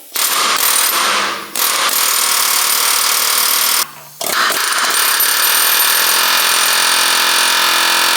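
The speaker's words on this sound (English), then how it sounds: "We're gonna hit it with the air hammer" An air hammer pounds on a bending pitman arm puller while a steering gearbox is swapped on a 2002 Cummins truck, a loud, fast metallic chatter in long bursts with two short pauses, close and alone.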